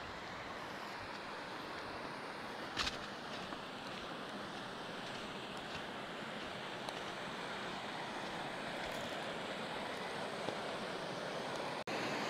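Water rushing steadily at Edith Falls in northern Australia, a small waterfall feeding a sandy pool, with a constant broadband wash and wind buffeting, heard close and continuous without speech.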